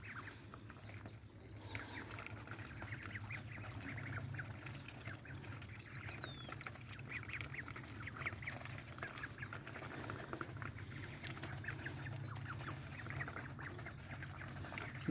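Ducks and chickens kept on a farm, with soft clucking and scattered bird calls rising over a steady low hum, moderately close but fairly quiet throughout.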